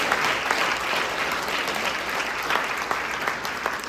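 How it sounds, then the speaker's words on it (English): A crowd at a fundraising gala claps steadily for a few seconds, a dense even patter of applause with no voices standing out. "let's give the IDRF team a round of applause for their hard work"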